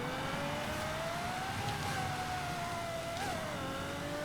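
A rear-wheel-drive A-class car in Forza Horizon 5 accelerates, its engine tone climbing steadily through the revs, briefly dipping on a gear change, then rising again, loud and alone.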